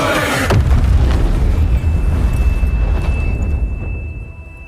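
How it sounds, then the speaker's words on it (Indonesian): A loud explosion in Arknights Endfield bursts open with a deep boom, then rumbles on as a long, dense roar that slowly fades, with a thin steady tone ringing through the tail. "Meledak."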